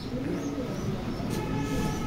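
Racing pigeons at a loft coo softly in low, throaty rolls against a quiet background hum, with no speech.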